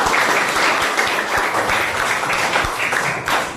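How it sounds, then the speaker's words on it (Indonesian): A classroom of schoolchildren applauds together in a steady, dense wash of clapping that carries on throughout, close and fairly loud, with no voices rising above it. "Oke, tepuk tangan kita."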